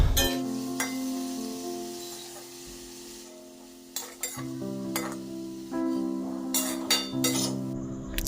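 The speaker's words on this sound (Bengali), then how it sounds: "আলুর মধ্যে 1 চামচ নুন ও হাফ চামচ হলুদ দিয়ে আলুটিকে নেড়েচেড়ে লাল করে ভেজে নেব" Potato pieces fry in a pan of oil with salt and turmeric while being stirred, giving a continuous gentle sizzle broken by scraping and clinking of the spatula against the pan.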